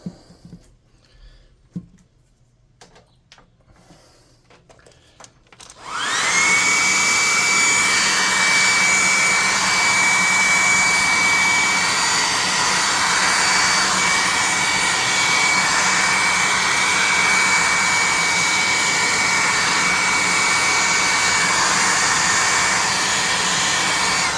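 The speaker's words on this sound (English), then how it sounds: "We can hit him with the hair dryer" After a few seconds of quiet tapping, a hair dryer switches on to dry paint on a crafted forest troll miniature, blowing with a loud, steady whoosh and a thin whine that continues to the end.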